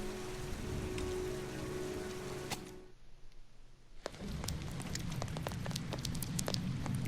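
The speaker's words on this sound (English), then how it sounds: "It's raining." Steady rain hissing in the video game Heavy Rain, a dense, even wash of falling drops that cuts out briefly, then returns with sharp drip and splash ticks; no voices.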